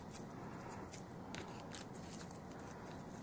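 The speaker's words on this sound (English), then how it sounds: "Cut the stem off." Scissors snip through a yellow flower stem during a clothespin craft project, a soft, close crisp cut with a few faint clicks over quiet room noise.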